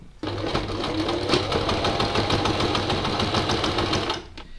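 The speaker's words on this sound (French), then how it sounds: "j'ai piqué en tendant bien le tissu et l'élastique juste en nervure ici" Sewing machine stitching stretched fabric and elastic strap together for a top, one continuous loud whirring run of about four seconds that stops abruptly.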